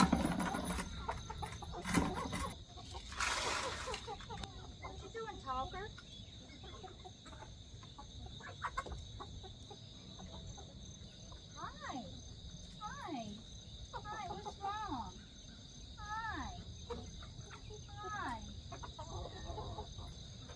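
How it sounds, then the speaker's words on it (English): Chickens and roosters feeding in a homestead pen give repeated soft clucks and calls, a low steady flock chatter with crickets faintly behind and a person talking now and then. "I can actually see what my chickens look like because they move around so much"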